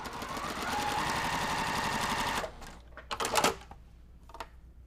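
A sewing machine stitches a quilt block in a fast, steady mechanical run for about two and a half seconds, then stops, followed by a few short clicks and handling knocks.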